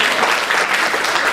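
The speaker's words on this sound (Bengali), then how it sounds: "একটি জোরে করতালি" Loud, dense applause from an audience at a Bengali New Year celebration in New York, a continuous wash of clapping heard alone with no voices over it.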